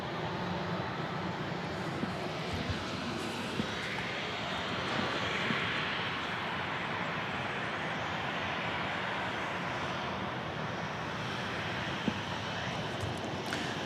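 A Southwest Boeing 737-700 jet at Dallas Love Field roars from some distance in a steady, broad engine rumble that holds throughout, with faint voices underneath.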